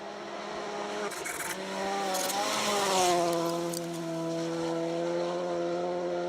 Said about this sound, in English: Tom Cave, again pushing hard in that little Polo GTI R5